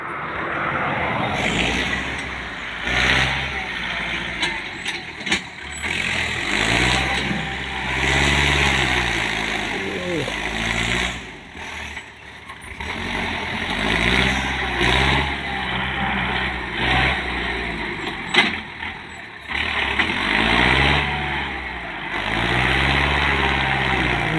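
A tractor engine runs close by, idling with a low steady throb and rising into repeated revs that swell and fall back across the whole stretch, with no voices.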